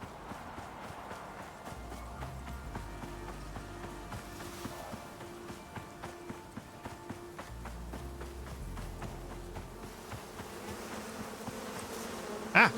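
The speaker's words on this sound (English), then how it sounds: "Yes, bees are very angry." Angry bees swarm in the survival game Icarus, a steady buzzing drone under heavy footsteps and movement, continuing throughout with no talking.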